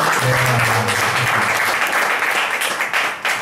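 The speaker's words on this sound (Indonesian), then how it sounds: "Beri tepuk tangan dong." A crowd at a business talk applauds loudly and steadily, dense clapping filling the whole stretch with some faint voices mixed in underneath.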